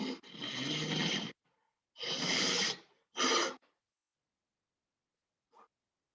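Someone blows their nose in three forceful, breathy bursts, close and loud, separated by short pauses, followed by a faint sniff.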